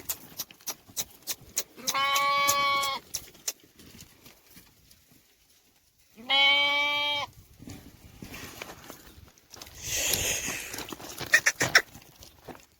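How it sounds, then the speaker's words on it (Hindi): Goats in a Saudi Arabian village bleat loudly and close by in two long calls, with quieter rustling and livestock movement in between and a softer animal noise near the end. "देखें हमारी बकरियाँ सारी"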